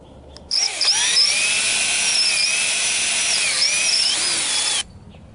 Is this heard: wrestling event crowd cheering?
no